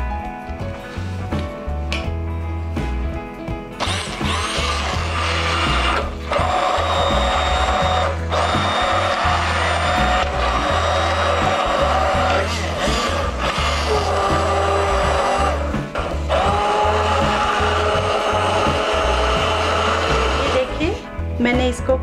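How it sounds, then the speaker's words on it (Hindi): A loud electric blender whirs continuously, its motor pitch wavering as food churns, with brief pauses and restarts at the start and near the end. "अब इसको हम इस ब्लेंडर की हेल्प से ब्लेंड करते हैं।"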